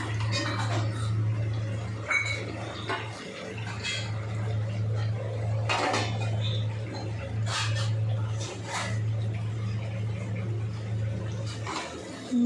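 Fried pointed gourd goes into a spiced pan and is stirred, giving irregular scraping and clinking of a spatula against metal over a constant low hum from a nearby appliance.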